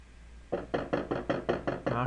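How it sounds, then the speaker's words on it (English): A run of seven evenly spaced knocks on a door, crisp and close, starting after a short quiet pause and keeping a steady rhythm. "Knock, knock."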